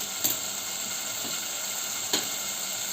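Steady hissing sizzle of a flour mixture cooking in a hot pan, with a couple of brief scraping clicks from stirring.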